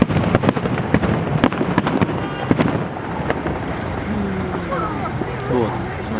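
A fireworks salute in Voronezh on 23 February sends a run of sharp, distant booms and cracks in quick succession. The bursts fade into a rumbling background while people talk nearby.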